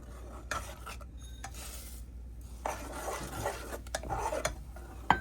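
A spoon scrapes and stirs oats cooking in boiling water in a pot, in a series of close, irregular scraping strokes with brief pauses, with no voices.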